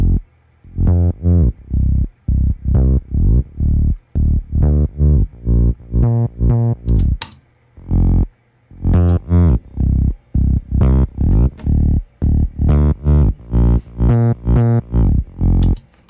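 Chopped, rhythmic synth bass notes run through Quadra Fuzz multi-band distortion. The notes are loud and gritty, play in a repeating groove with short gaps, and sound alone without any voice.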